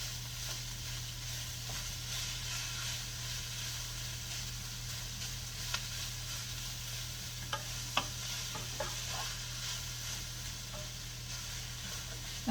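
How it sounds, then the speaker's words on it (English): Onions and spices sautéing in a pan under a constant soft sizzle and hiss, with a few faint clicks of stirring now and then and no speech. "I'm going to throw that right in there and get those onions a little bit more sauteed"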